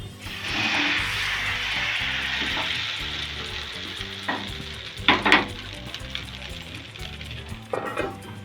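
Rice flour ghavane batter sizzles steadily on a hot pan, a close continuous hiss joined by a few scraping and clinking stirs of a ladle.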